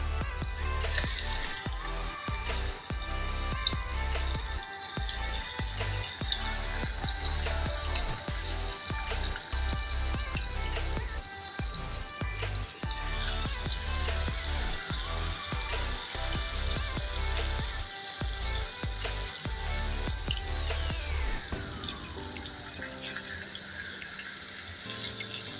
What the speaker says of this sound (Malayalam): ചൂടായ എണ്ണയിലേക്ക് ഓരോ മീൻ കഷ്ണങ്ങളും ഇതുപോലെ വെച്ച് കൊടുക്കാം.